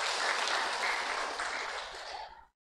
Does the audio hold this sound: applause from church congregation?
yes